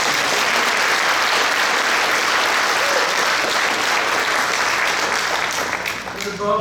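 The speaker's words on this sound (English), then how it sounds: "Give them a round of applause." Concert audience applauds a VFW post band at a Ukraine support concert, sustained dense clapping with some crowd noise that holds loud for several seconds before thinning slightly, with faint voices near the end.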